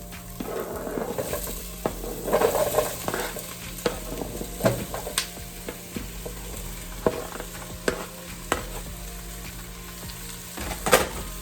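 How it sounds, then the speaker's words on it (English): Chunky hard vegetables tipped into a soup pot over softened onions, sizzling and frying as they are stirred, with irregular scraping and clunking knocks from the spoon and pieces against the pot, close and moderately loud. "now we can add the hard big vegetables"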